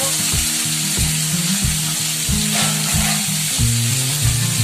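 A fish head frying in a pan, a loud dense sizzle and crackle close up, with a rhythmic low mechanical hum pulsing steadily beneath it throughout.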